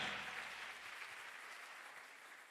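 A church congregation claps in a faint, steady wash of applause that fades slightly toward the end.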